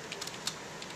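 Keys click on a computer keyboard in a few quick, light taps over steady broadband background noise, close by.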